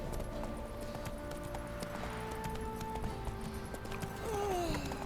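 Horse hooves in The Witcher 3 video game clop in a quick irregular rhythm, moderately close and fairly soft, over game ambience with faint tonal music and a brief rising-falling whistle-like sound near the end.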